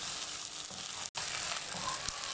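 Taro root and chilies frying in a pan, a steady close sizzle and crackle that runs continuously, broken by a very brief gap partway through.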